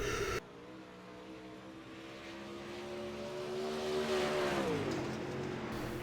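An UMP Modified race car in the iRacing video game drives a lap at USA Speedway, its engine a steady droning note that rises in pitch and loudness toward the end, heard alone without talk.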